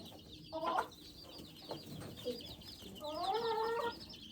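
A black sex-link hen clucks in short bursts followed by a longer run of rising, harmonic clucking calls, fairly close against a quiet outdoor background.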